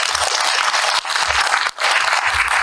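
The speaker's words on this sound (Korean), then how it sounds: "의견을 내주신 우리 정한열 이사님 박수 한번 보내주세요" Steady applause from the audience at a county council public hearing on public school meals, a loud continuous wash of clapping with two brief dips, no talking heard.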